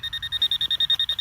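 Whites V3i metal detector sounding a rapid series of about a dozen short, evenly pulsed high beeps, close and clear with no talking.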